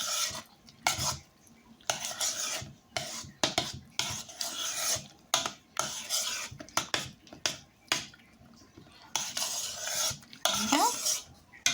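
A spoon works through a thick strawberry mousse mixture in a bowl, producing repeated close rasping scrapes and soft clicks in uneven bursts separated by brief pauses.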